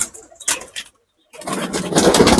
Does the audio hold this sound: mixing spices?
no